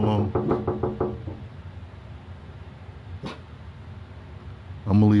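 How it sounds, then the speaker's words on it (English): Knocking on a window comes as a quick burst of several sharp raps near the start, with a single faint knock later, while someone talks before and after. "Somebody knocking on my window."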